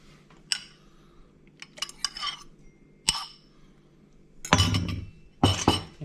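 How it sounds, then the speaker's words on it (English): Eggs being stirred into milk in a glass bowl for Lithuanian yeast pancakes: a utensil clinks and scrapes against the glass in scattered bursts, louder and busier toward the end, with no voices. "And then I will stir in both the eggs and the melted butter."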